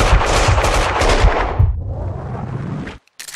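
Sustained automatic gunfire in the video game Max Payne 2 rattles loudly and densely for nearly three seconds, then cuts off abruptly into near silence.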